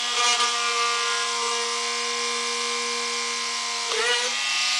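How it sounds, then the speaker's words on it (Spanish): A small drill whines steadily while boring a hole through a homemade fishing float for the line to pass through, a continuous high-pitched motor tone with a brief dip near the end, with a voice speaking over it. "Un taladro para que entre el hilo."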